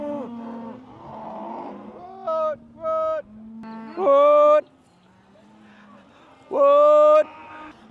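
Angus cows on an Australian cattle farm moo loudly and close by in several long drawn-out calls, mixed with lower lowing and someone talking in between.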